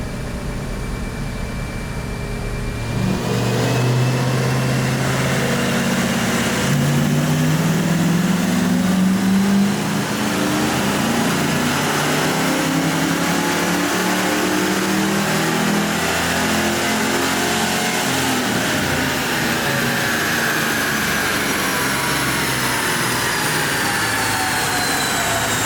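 A Ford Fox Body Mustang V8 with base timing set to 14 degrees roars through a full dyno pull, its engine note climbing steadily in pitch as it revs up, loud and continuous for about twenty seconds before easing off.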